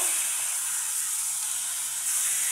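Pabda fish sizzling and hissing steadily in hot oil in a pan as the pieces are turned over, a close, continuous frying hiss with no talk.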